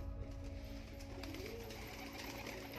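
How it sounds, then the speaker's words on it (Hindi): Pigeons coo softly in a loft, a low, faint and steady murmur under a constant background hum. "धीरे धीरे सभी कबूतर बाहर आ रहे हैं"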